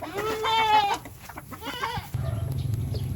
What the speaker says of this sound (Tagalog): Grabe itong mga kulit na kambing